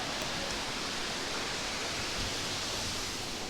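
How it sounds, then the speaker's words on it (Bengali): A waterfall in Darjeeling roars as a dense, steady rush of water, broad and unbroken at moderate loudness, with no voices. "অবশেষে আমরা ঝর্ণার কাছে চলে এসেছি"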